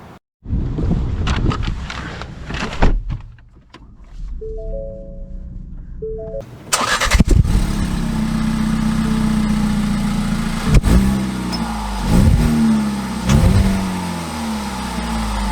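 A 2022 Ford EcoSport 4WD cranks with a few clicks and a whir, then its engine catches with a sharp roar and settles into a steady idle, broken by several short revs.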